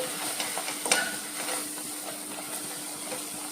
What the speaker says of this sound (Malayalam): പൊടിയുടെ എല്ലാം പച്ചമണം പോകുന്ന വരെ നമുക്കൊന്ന് വഴത്തിയെടുക്കാം